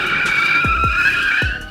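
A car doing a burnout in a supercar garage and shop gives a loud, continuous, high tire squeal, close by, with a few low engine thumps underneath.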